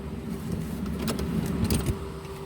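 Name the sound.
car engine running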